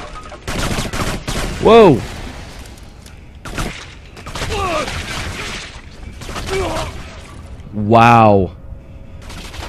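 Gunfire from Kane & Lynch 2: Dog Days, with dense crackling bursts running through the clip and two brief louder peaks, under a man's startled exclamations.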